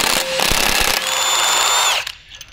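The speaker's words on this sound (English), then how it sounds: "Now we're going to remove our axle bolt." A power tool with a 24mm 12-point socket loosens the axle bolt on a VW MK5/MK6 during a coilover install, giving a short loud whirring buzz that spins down and stops after about two seconds.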